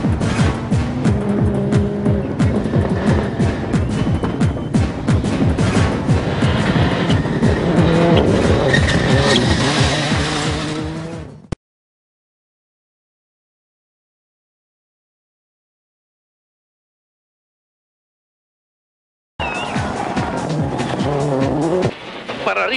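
Onboard a 1998 rally car driven by Carlos Sainz on a gravel stage: the engine roars loud and close with tire skids and squeals, cuts to silence midway, then returns.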